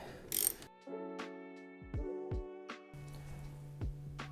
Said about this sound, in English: now that we've got our 8mm, now we can go ahead and crack these little guys loose